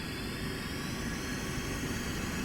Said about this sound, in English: We are going to put on full military power.